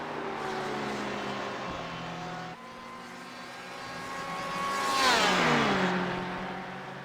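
GTE sports cars in a Le Mans racing video game sweep through the Porsche curves, a steady multi-engine drone that swells and bends in pitch as a car passes close, then settles back into the pack.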